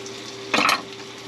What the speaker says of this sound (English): I'm gonna throw this garlic in